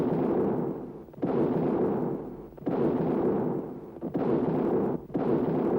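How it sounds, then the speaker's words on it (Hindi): Cannon fire in a 21-gun salute at the Red Fort in Delhi, four deep booming blasts spaced about a second and a half apart, each with a long rumbling decay. "21 तोपों की सलामी दी।"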